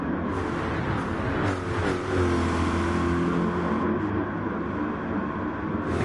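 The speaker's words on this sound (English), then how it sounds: "The cars on their formation lap now." Race cars in the NASCAR GT Fast Formula 30 series in a video game, rolling through the formation lap with a steady, loud, droning engine rumble from several cars, with slight swells as they ease into position and no voices.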